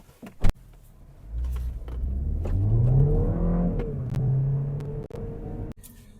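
A 2025 MINI Cooper S accelerates, its engine rumble rising in pitch and then settling into a steady drone, with a few sharp clicks and knocks at the start and end.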